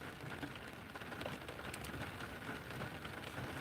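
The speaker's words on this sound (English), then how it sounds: "We need the rain." Rain falls outside in a steady, even wash of close patter with no pauses or talking throughout the short stretch.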